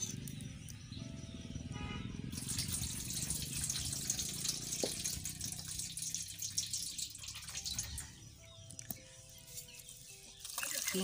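Rice rinsed in three changes of water in a village kitchen, quiet sloshing and swishing of water with occasional splashes and a small knock, faint, with some background voices.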